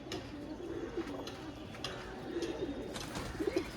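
Pigeons in a flock of more than a hundred birds coo in soft, low, rolling bursts that repeat every second or so over a busy background of rustling and faint chirps.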